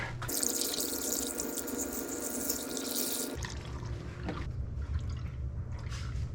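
Coolant pours into the cooling system of a 2006–07 Honda CBR1000RR motorcycle during a water pump replacement, a close, steady gurgling stream that cuts off abruptly, followed by softer trickling and dripping.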